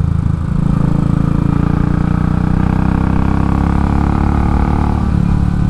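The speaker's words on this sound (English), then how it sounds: "And then dropping back through the gears to put some pressure on this" A Royal Enfield Classic 500 single-cylinder motorcycle engine during a hard break-in ride, a loud, steady thumping exhaust heard close up, its pitch shifting as it drops back through the gears, with no talking.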